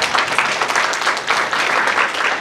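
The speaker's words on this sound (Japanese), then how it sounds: "皆さん拍手でお迎えください。" Audience at a talk on food, agriculture and biodiversity applauding to welcome the speaker, steady dense clapping from a roomful of people, moderately loud and continuous with no talk.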